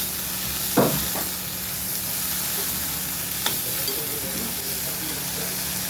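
Cluster fig vegetable sizzles steadily in a hot pan, the frying hiss constant and close, broken by a couple of sharp spoon scrapes and a later clink as it is stirred.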